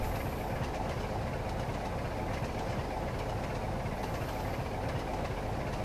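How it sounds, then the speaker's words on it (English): A short commuter passenger train passes in Train Simulator 2012, a steady, even rumble of wheels and running gear that holds at constant loudness throughout, with a faint clickety rhythm and no talking. "Short little commuter passenger train."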